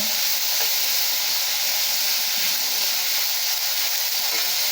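Chopped onions, green and dried chillies and curry leaves sauté in a pan for Coimbatore-style arisi upma, giving a loud, steady, unbroken hiss of sizzling oil close by.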